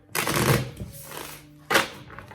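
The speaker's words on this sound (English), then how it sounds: "So we'll do a couple of shuffles and go from there." Oracle animal cards are shuffled in a few quick riffles, two distinct bursts of papery flutter close up in a quiet room.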